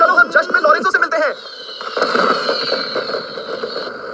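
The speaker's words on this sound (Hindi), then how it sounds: "वहाँ उस पहाड़ी के ऊपर से वो लोग घिसे पिटे पटाखे फोड़ रहे हैं।" Fireworks crackle and pop from a hilltop during a celebration in a cartoon, a busy burst of bangs giving way to sustained fizzing crackle at mid distance.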